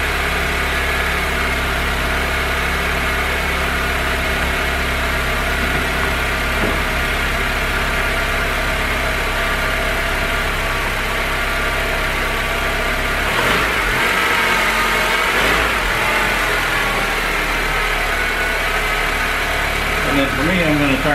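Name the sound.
2006 Honda Civic engine revving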